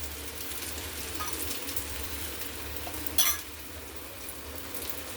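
Onion-leaf dhapate flatbread fries in oil on a hot griddle, giving a steady, close sizzle with a brief louder crackle partway through.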